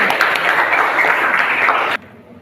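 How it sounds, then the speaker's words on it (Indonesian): Classroom students applaud together at the end of a lesson, a dense, steady patter of many hands close by that cuts off abruptly after about two seconds. "Oke, tepuk tangan dulu untuk kita hari ini"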